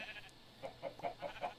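Sheep in the Minecraft video game bleat in a quick run of short, wavering calls, faint and fairly close over quiet background with no talk.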